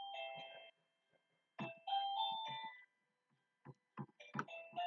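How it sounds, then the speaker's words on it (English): Electronic doorbell chimes ring in several bright bursts separated by short silent pauses, fairly close and clear. "as you can hear, my bell on my door is going off."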